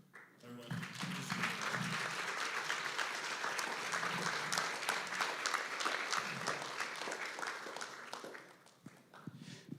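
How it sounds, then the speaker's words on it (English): Audience applause at a tech summit demo session, sustained clapping from a crowd that swells quickly and holds steady for several seconds before fading, with some speech mixed in at the start. "So I'd like to have a round of applause for everyone."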